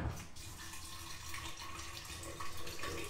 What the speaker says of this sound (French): je rajoute 1 litre d'eau